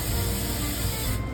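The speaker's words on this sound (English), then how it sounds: "we're going to spray these clean" A sink sprayer hoses dishwasher drain screens clean, a loud, close, steady hiss of water jetting against metal that cuts off abruptly near the end.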